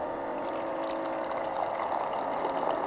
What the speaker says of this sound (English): I'm going to pour back that initial.